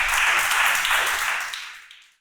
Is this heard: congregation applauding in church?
yes